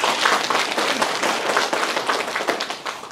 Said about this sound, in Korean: 잘 될 수 있도록 박수를 쳐주세요.